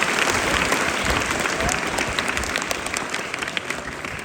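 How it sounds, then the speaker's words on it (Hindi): A school assembly crowd at a Teacher's Day event claps loudly for a second-grade lecturer, dense sustained applause filling the room for several seconds. "ताली बजाओ इनके लिए जोर की"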